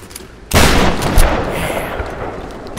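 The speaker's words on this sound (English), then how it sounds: "And we're going to shotgun this." A shotgun blasts in the Tomb Raider video game, one heavy booming shot followed by a smaller thump and a long rumbling decay, close and loud.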